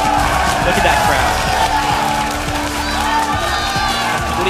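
A loud esports arena crowd at a League of Legends LCS match cheers and roars continuously, with a commentator talking over the noise.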